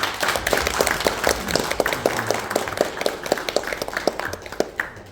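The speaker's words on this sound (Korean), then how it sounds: "우리 박수로 환영합시다" A small gathering claps to welcome guests, including a group working with North Korean defectors. Individual claps ring out sharply and fairly evenly, a sparse, distinct patter rather than a dense roar, fading near the end.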